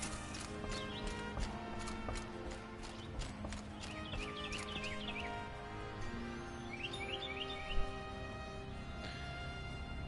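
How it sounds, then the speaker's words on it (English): Bright chirping birdsong in Horizon Zero Dawn, several repeated trilling calls against a steady game ambience of clopping footsteps and soft background tones, with no talking. "I thought I was hearing actual birds in my room"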